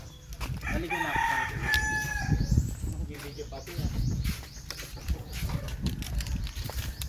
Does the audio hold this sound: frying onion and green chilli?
no